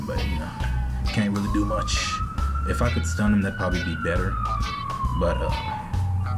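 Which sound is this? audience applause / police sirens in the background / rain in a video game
police sirens in the background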